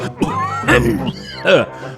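A voiced cartoon character in a Gopal Bhar animation coughs and clears the throat in a few short, rough, close bursts, acted by a voice performer.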